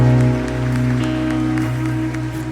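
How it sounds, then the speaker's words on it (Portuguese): A church congregation claps continuously during a service, dense sustained applause from a crowd with steady tonal music sounding underneath. "Aplauda ao Senhor."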